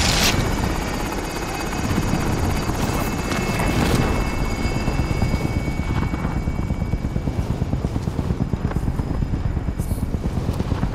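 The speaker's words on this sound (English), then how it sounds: "Helicopters exiting the area." Extraction helicopter in the video game Plunder, a loud continuous thudding rotor whir with a steady rhythmic chop, close and sustained throughout, with a brief burst of game effects early on.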